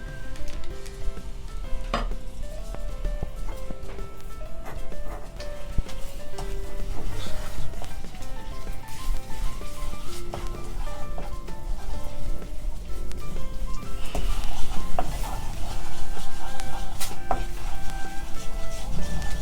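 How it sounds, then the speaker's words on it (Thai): Coconut milk and a spoonful of green curry paste simmer in a pan for Thai green curry with pork, giving a steady, close bubbling sizzle with occasional stirring throughout, over faint tonal background sounds. "เราจะเคี่ยวกะทิก่อนนะคะสักเล็กน้อย"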